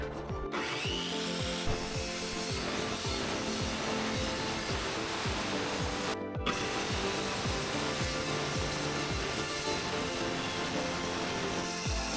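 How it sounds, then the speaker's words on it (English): A saw set to a three-quarter-inch depth cuts steadily through the deck of a Seacraft boat under restoration, giving loud rhythmic rasping strokes that continue throughout except for one short pause. "I'm gonna use a simple hand saw and I'm gonna set it to 3/4 of an inch"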